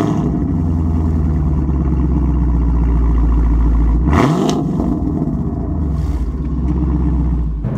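A 700-horsepower car engine idles with a deep, loud rumble, then blips sharply in a single rev before settling back to a throaty idle. No one speaks.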